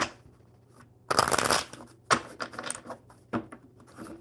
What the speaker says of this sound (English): Let's get these cards shuffled for.